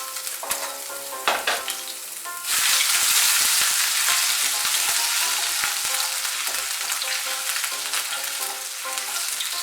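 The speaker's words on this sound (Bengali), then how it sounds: "এর মধ্যে এখন থেতো করা আদাটা দিয়ে দিচ্ছি।" Crushed ginger dropped into a hot pan bursts into a loud, continuous sizzle and fry after a few quiet clinks, staying close and steady.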